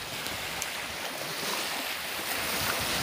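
Sea waves wash steadily against the shore with wind blowing into the microphone, a constant broad rush and no speech.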